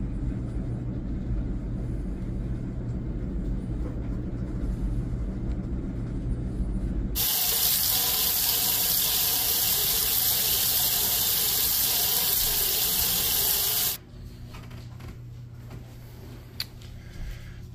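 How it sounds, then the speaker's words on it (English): Hot water gushes steadily from a household tap as a loud, broadband hiss that starts abruptly partway through and cuts off sharply, preceded and followed by low room rumble. "The hot water is coming out hot."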